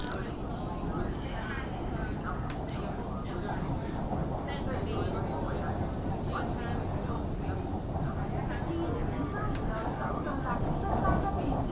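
A steady, heavy rumble of an MTR Kwun Tong Line Q-Train in motion in Hong Kong, continuous and close, with indistinct voices faintly underneath.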